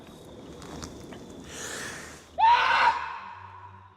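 A person lets out a loud, rising scream in the woods, imitating a Bigfoot call, after several seconds of quiet forest ambience and faint rustling; the single howl lasts about half a second at full strength and then fades.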